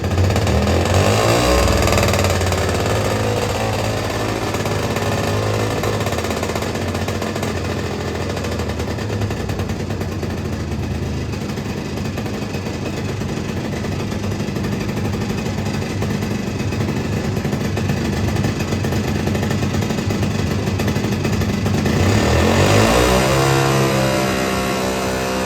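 A 1970s ATTEX six-wheeler's small engine roars and revs loudly while backing up loading ramps, a rattly sustained drone that surges and shifts pitch near the start and end.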